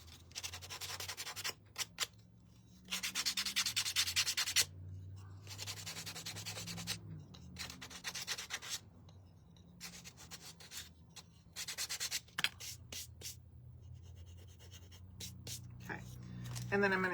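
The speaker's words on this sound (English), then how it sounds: "I'm gonna go ahead and sand this down. And I'm just sanding the edges" Sandpaper rubs in repeated short scratchy bursts along the edges of a painted wooden pig cutout, close by, with pauses between strokes.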